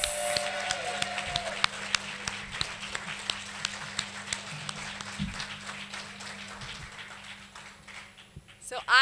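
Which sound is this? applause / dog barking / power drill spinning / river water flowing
applause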